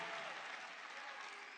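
A large political rally crowd in Georgia applauds and cheers steadily, a dense wash of clapping and voices with no pause.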